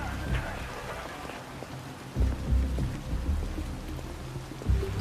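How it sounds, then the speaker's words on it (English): Heavy rain in the video game Detroit: Become Human, a steady wash of downpour with scattered low thuds, moderately loud and continuous throughout. "if it rains this much in Detroit, you people should be carrying umbrellas around"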